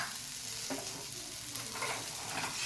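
A steady, soft sizzle of chicken frying in hot oil in a pressure cooker, with faint stirring scrapes, close but quiet.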